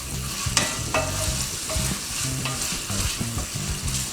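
Bacon browning in a pan for Mexican refried beans, a close, even sizzle broken by regular scraping stirs, with no talking.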